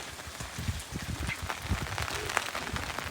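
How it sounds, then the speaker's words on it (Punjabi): Heavy rain pours down steadily, with dense drops pattering hard on surfaces close by, continuous and fairly loud throughout. "ਬਹੁਤ ਮੀਂਹ ਪਿਆ"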